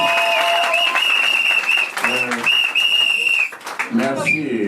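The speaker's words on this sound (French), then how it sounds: "applaudissements pour elle, s'il vous plaît" Wedding guests clapping at a customary wedding ceremony, a dense burst of applause under loud singing and ululating voices.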